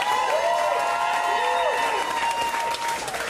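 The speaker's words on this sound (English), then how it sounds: "Give them a round of applause." A crowd at a Cincinnati mayoral race concession speech bursts into sustained applause, with dense clapping and some whoops of cheering running throughout.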